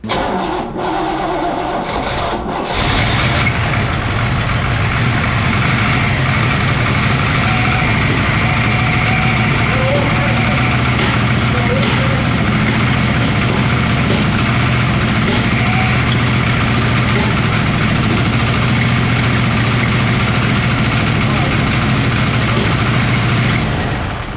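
A rare, long-forgotten Corvette engine catches and starts after a brief crank, then runs at a loud, steady, rough idle nearby for over twenty seconds without talk.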